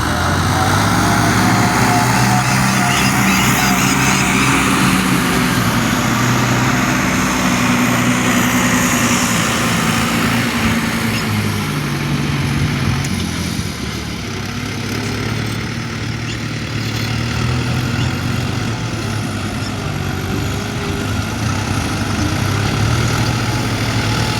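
A New Holland tractor engine runs steadily close by, a loud continuous diesel rumble and drone with no breaks, swelling slightly partway through, with no talk over it.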